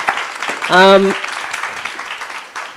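Audience applause at an arts salon conversation event, a dense burst of clapping across the whole moment, with a single voice briefly speaking over it partway through.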